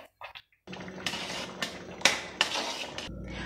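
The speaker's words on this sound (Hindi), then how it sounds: "हम अपनी सूजी को चलाते हुए अच्छी तरह से मिक्स करेंगे" Spoon scraping and clinking against a pan as semolina with dry fruits is stirred, a few sharp metallic scrapes and taps over a low steady background, close and fairly quiet.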